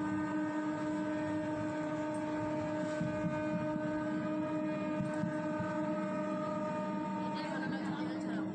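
Railway station ambience while waiting for the Shatabdi Express to Puri, a steady low rumble and hum with a constant tonal drone, like an idling train nearby, continuous and moderately faint with no clear voices.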